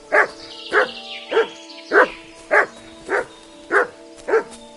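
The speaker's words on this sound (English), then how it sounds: "Sit and bark." A dog in the video game Kingdom Come: Deliverance 2 barks eight times in an even rhythm, loud and close, each bark short and sharp over a faint background tone.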